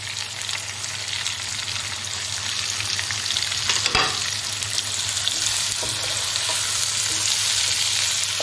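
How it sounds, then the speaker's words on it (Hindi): Chicken sizzles steadily in hot oil with salt, chilli and turmeric added, a dense continuous frying hiss with occasional stirring scrapes, close and fairly loud throughout. "चिकन हमारी भुन रही है"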